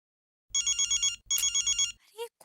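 A telephone rings in two bursts of rapid electronic trilling, each made of several quick pulses, loud and close, followed by a short chirpy tone at the end.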